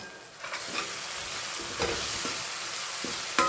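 Spices (red chili powder, turmeric and coriander-cumin powder) with salt being stirred into a frying dish before spinach goes in, giving a continuous hissing sizzle broken by a few scraping spoon strokes, close and without talk.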